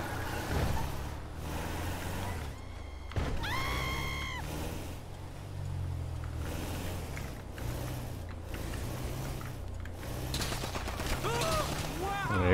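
Bursts of gunfire crack out in the GTA RP video game among engine and vehicle sounds, with sharp rapid shots clustered toward the end and occasional talk.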